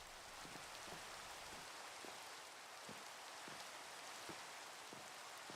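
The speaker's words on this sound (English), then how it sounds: "And then it just starts raining." Steady rainfall in the Minecraft video game, a dense continuous patter of drops with faint irregular low thumps, even and unbroken throughout, with no voices.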